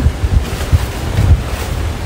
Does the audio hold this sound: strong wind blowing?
yes